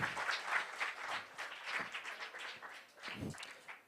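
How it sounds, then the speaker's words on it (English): Students at a career seminar give the whole team a round of applause, with uneven bursts of clapping that swell and fade in waves across a few seconds in a hall. "Just give a big round of applause for the whole team."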